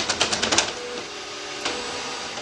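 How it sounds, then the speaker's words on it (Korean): A 3D printer builds a golden-ratio nautilus shell model, with a rapid train of loud clicks and stepper buzzes up front that settle into a steady mechanical whir, close and alone. "I'm using a 3D printer here to make a golden ratio nautilus shell"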